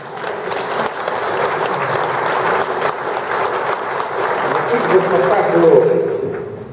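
An audience claps steadily throughout a meeting of President Poroshenko with civic reform movements, a dense, sustained round of applause that swells slightly toward the end.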